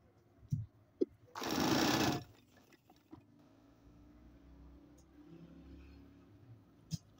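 Sewing machine stitching a sleeve, one loud whirring burst of under a second after a couple of sharp clicks, then quiet handling noise and a final click.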